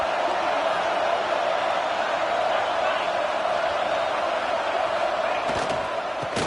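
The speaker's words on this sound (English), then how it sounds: "this home crowd is fired up and ready to make a difference today." A home crowd at a football game just after kickoff roars in a dense, sustained wash of noise that fills the stadium, with a few sharper thuds near the end.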